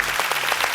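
Applause from an audience at a Malayalam awards event for the most popular fashion blogger, a short dense burst of clapping heard alone at moderate level.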